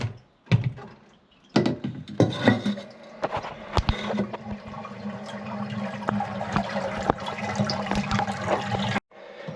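A newly installed space-saving toilet flushes with a sharp rush of water, then the cistern refills through its fill valve with a steady hiss and trickle, punctuated by a few clicks and knocks nearby.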